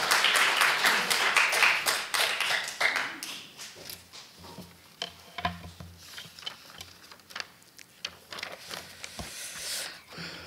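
A church congregation claps to welcome an invited family at a Sunday family worship service. The applause is dense at first, then thins into scattered, uneven claps and taps that die away.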